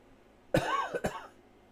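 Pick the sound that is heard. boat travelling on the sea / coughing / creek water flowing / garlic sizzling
coughing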